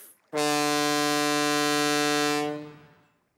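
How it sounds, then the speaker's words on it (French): A loud, steady boat whistle blast with a rich harmonic tone, sounding once for about two seconds before tapering off. "Attention, Rouli, le sifflet n'est pas un jouet"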